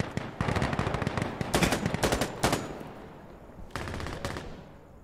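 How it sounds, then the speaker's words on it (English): Bursts of Uzi submachine gun fire in a video game, several rapid automatic volleys of varying length separated by short pauses, loud and close with no talk over them. "It's an Uzi"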